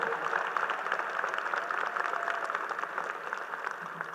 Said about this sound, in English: How about a big round of applause for all of the loved ones